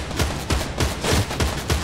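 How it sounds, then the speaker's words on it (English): Steady rapid gunshots in Fortnite Battle Royale, a string of roughly eight evenly spaced loud reports over two seconds with no talking. "Just shoot, start shooting the tree."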